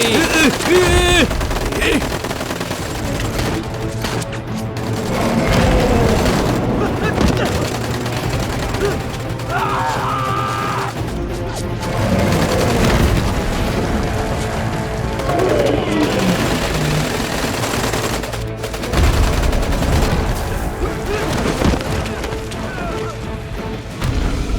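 Loud, sustained bursts of automatic gunfire with heavy booms in an action film scene, continuing almost nonstop, while voices shout underneath the shooting.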